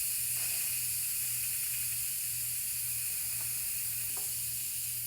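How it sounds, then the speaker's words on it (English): Instant Pot pressure cooker steam release valve hissing continuously, a steady even hiss of escaping pressure throughout, with a few faint clicks underneath. "It is slowly releasing the rest of the pressure"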